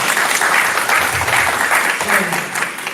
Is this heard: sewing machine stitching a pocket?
no